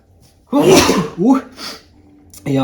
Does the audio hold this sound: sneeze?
yes